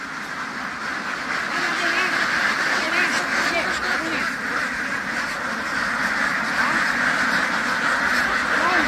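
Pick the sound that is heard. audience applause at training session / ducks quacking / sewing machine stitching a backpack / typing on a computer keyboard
ducks quacking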